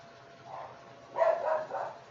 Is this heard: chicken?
no